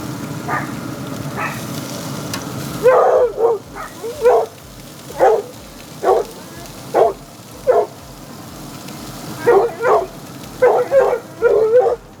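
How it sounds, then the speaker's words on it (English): A dog barks and yips repeatedly in short bursts, fairly close, after a few seconds of steady sizzling background noise. "Listen to my dog. Out of control."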